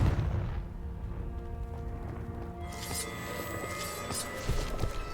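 Confringo spell blast in the video game Hogwarts Legacy, a deep rumbling boom up front that rolls into a sustained crackling, fiery burst with bright sizzling layers, loud and close.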